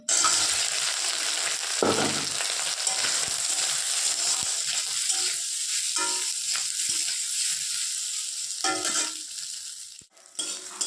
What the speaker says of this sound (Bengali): বন্ধুরা, সয়াবিনগুলো একটু ভেজে নেব